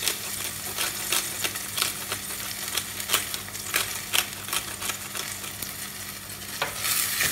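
A dolma filling of minced meat fries in a pan with a continuous sizzle. Frequent sharp stirring scrapes and clicks cut through it close up, and nobody speaks.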